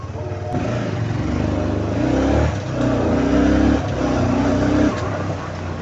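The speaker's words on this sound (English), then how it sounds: "So this bike here is a 6-speed manual." A 6-speed manual motorbike engine revs loud and close, with a steady drone that surges in several rising and falling waves and carries no talk.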